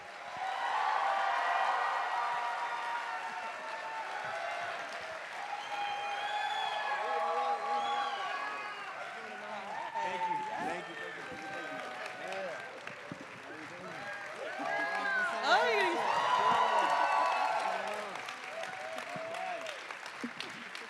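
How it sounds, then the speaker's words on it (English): A film Q&A audience for Marty Supreme, with Edward Norton and Timothée Chalamet, breaks into sustained loud applause and cheering, with whoops and excited shouts rising and falling across the crowd for about twenty seconds. "Crowd is so excited."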